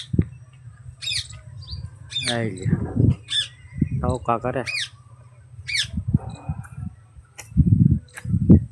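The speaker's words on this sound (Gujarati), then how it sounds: "મોટર ઉતારવી છે એટલે પોપટ આવ્યા છે પાછા" Parrots give several sharp, harsh squawks in quick bursts nearby from a wire, while someone speaks briefly between them.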